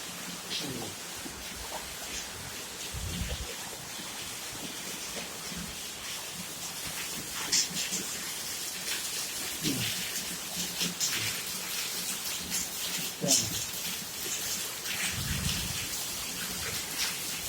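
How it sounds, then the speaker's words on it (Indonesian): Steady rain falls on an afternoon in Indonesia, a dense continuous hiss of drops with a few louder splashes and low rumbles, heard alone without voices. "Hujan terus kalau setiap sore."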